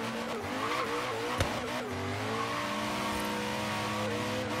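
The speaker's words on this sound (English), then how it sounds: "Hear those front tires just squealing, trying to find traction." Engine revving hard with front tires squealing over it in Forza Horizon 3, a front-wheel-drive Koenigsegg; pitched harmonics slide up and down in a continuous, game-like car sound.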